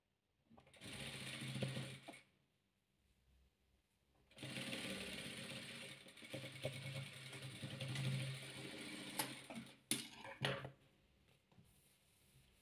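Sewing machine stitching patchwork quilt pieces together, running in two long steady whirring stretches separated by a short pause, then stopping with a few brief knocks; close and moderately loud.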